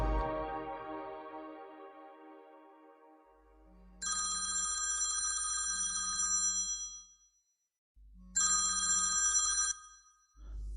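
A telephone rings in repeated bursts of electronic trilling, two loud ring cycles separated by short pauses, heard alone without talk, following an earlier fading tonal sound.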